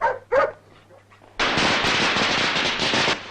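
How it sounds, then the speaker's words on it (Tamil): Firecrackers burst in a dense, loud crackling volley during a festival, sustained for a couple of seconds after a short pause with faint voices beforehand. "எல்லாரும் பட்டாசு வெடிக்கிறாங்களா?"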